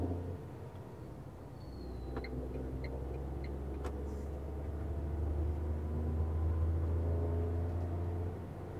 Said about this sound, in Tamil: அந்த இன்ஜினோட சத்தம் உங்களுக்கு கேட்கும்னு நினைக்கிறேன்